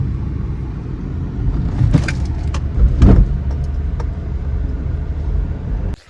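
Inside a vehicle driving slowly along a narrow village road: a steady low engine and road rumble continues throughout with a few faint rattles, no talk, then drops away at the end.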